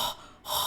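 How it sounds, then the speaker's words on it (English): Heavy breathing straight into a microphone during a casual chat stream: a loud, close, airy exhale that dips into a brief pause and then swells back up, with no speech. "heavy breathing into the mic."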